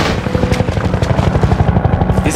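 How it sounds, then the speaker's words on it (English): Loud, close helicopter in a Half-Life 2 mod, its rotor thumping in a fast steady pulse over a deep engine drone, filling the whole stretch with no voices. "Chopper! Get some cover!"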